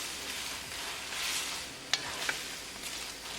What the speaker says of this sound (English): So after adding the sauce and keep mixing, we're going to cook additional 2 minutes.